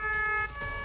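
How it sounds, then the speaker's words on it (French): An ambulance siren wails loud and near, its tonal pitch shifting abruptly halfway through the short burst, with no voices present. "c'est une ambulance qui arrive,"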